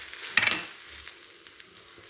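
Chili powder and spices fry in a pan for paneer curry with a soft, fairly faint sizzle and one brief louder crackling burst near the start.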